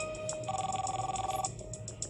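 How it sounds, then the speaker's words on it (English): A telephone rings in a TV soap drama scene, repeated electronic trills pulsing steadily for about two seconds at moderate level with no talk over it. "Him calling you on the phone when he's right in the next room."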